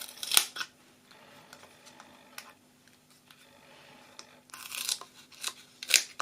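Scissors cut paper for an Easter gift bag, giving a few sharp close snips and crisp paper rustles at the start and end, with quieter handling noise between and no speech.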